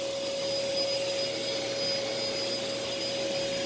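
A Sanyo SC30 canister vacuum cleaner runs steadily in a living room, a loud continuous whooshing roar topped by a constant high motor whine, with no breaks or changes in pitch.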